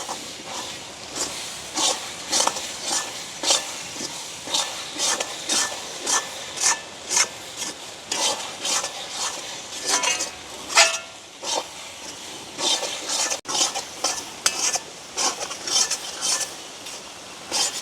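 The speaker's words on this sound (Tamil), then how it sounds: "இனி இப்போ இப்படியே மிரக்கறி எல்லாத்தையும் சேர்த்து நாங்கள் கிண்ட தொடங்குவோம்." Egg frying in a pan with chili curry powder being stirred through it, a steady run of scraping, rasping strokes in a repeating rhythm, close and fairly loud with no voices.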